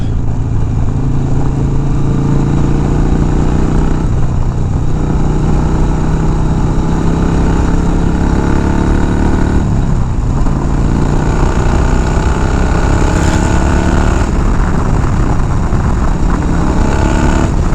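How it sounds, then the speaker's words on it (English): A Harley-Davidson FXR motorcycle engine drones loud and steady while riding at speed, with continuous wind rush and a few gear changes that dip and rise the pitch, no talking. "this bike does just fine on the highway"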